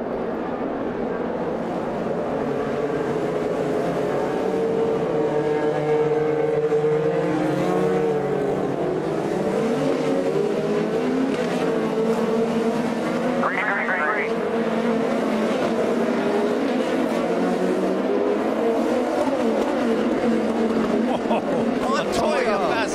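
IndyCar race cars at the 2015 St. Petersburg round roar through the final corner and accelerate at the restart: a dense, continuous pack of high-pitched engines, loud and sustained, with rising pitch sweeps as the cars pass close.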